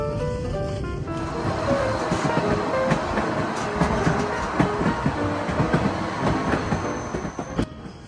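A train in Skagway, Alaska rumbles along the tracks while curving over a bridge, with rhythmic clacking and metallic squeals, loud and continuous throughout.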